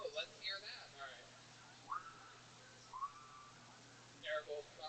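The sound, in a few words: person whistling imitating a train whistle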